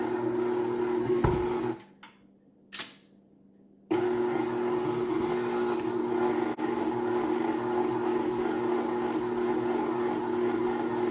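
Electric stand mixer kneading bread dough for crusty bread with flour being added, a steady droning motor hum that cuts out briefly, leaving near silence with a couple of clanks, then resumes loudly at an even medium speed.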